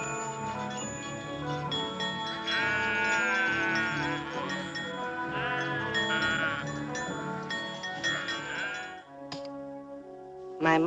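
A flock of sheep bleats in several wavering cries spread across the stretch, moderately near, blended with a continuous music score.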